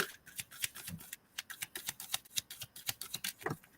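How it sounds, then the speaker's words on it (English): Tarot cards being shuffled by hand, a rapid run of soft riffling snaps and taps in an irregular rhythm, close and fairly quiet with no talking. "let's try and shuffle for your last card"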